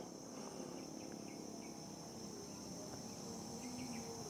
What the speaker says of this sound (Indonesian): Di sini pun kita bisa mendengar suara jangkrik-jangkrik hutan ataupun hewan-hewan hutan.